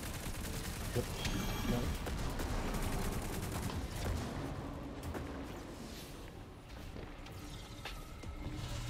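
Video game gunfire crackles in dense, continuous volleys like a steady firefight. The noisy, sustained barrage stays fairly loud throughout, with voices talking under it.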